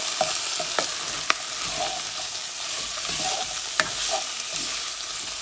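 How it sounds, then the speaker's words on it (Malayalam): Onions, ginger, garlic and curry leaves sautéing in hot oil for a Kerala-style chicken curry, a steady close sizzle and crackle with occasional scrapes and clinks of a stirring spoon. "ഇനി ഇത് നന്നായിട്ട് ഒന്ന് വഴറ്റിയെടുക്കണം."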